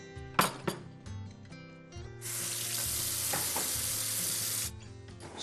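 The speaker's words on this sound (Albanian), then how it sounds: "Derisa të zbardhet, skuqet mishi" Minced meat for stuffed byrek pastries fries in a pan. A couple of sharp knocks come first, then a loud, bright sizzle swells and holds for a few seconds before easing back.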